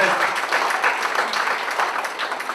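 Audience applause for Rev. Al Sharpton at a National Action Network event, a steady, dense wash of clapping filling the hall for a couple of seconds.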